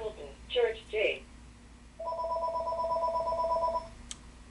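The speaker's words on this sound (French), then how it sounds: "Je ne veux pas répondre au téléphone." A telephone rings in a closed bookshop with a steady electronic tone held for about two seconds, following brief speech-like sounds and over a constant low background hum.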